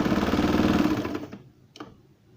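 A sewing machine runs steadily, stitching together the shoulder seams of a baby's summer shirt, its dense rapid chatter ending abruptly, followed by a single faint click.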